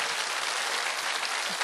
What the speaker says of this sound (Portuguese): Eu gostaria que vocês aplaudissem Paulinho Dufflin, que toca violão e viola.